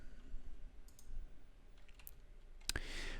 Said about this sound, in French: Je vais faire la combinaison de touches 0, 1, 5, 6.